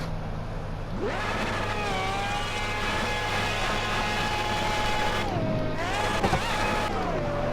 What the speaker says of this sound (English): So, this is a Zonda R. 6-liter V8, I believe.